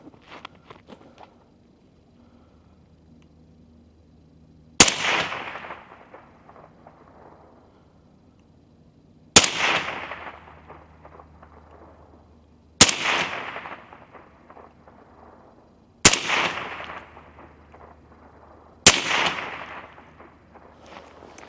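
Five sharp reports from a suppressed AR10 rifle loaded with 190-grain Sierra Match King rounds, spaced a few seconds apart, each a loud crack that rings out and decays slowly, with quiet handling noise between shots.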